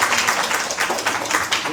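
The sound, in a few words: audience clapping for the hosts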